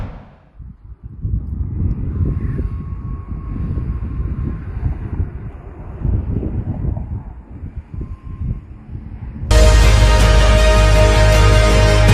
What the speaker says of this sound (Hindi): लेबनान के इलाके में अभी भी लगातार इजराइल के फाइटर जेट उड़ते हुए नजर आ रहे हैं।